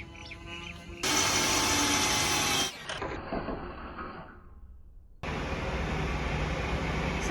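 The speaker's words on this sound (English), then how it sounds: "we are drilling all of the holes for the other solar panels" Power drill boring holes for solar panel mounts on a boat out of the water, loud harsh whine in two long bursts with a quieter gap and a brief stop between them.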